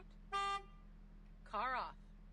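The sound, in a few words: car horn honking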